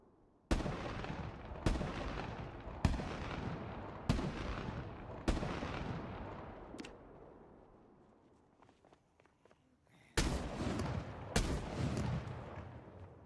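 Gunfire in a zombie survival video game: about seven sharp, loud shots at irregular intervals, each trailing into a long echoing decay, with a quieter gap before the last two.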